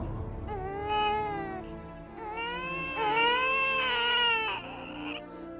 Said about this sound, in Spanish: repentinamente se escuchaba el llanto de un niño.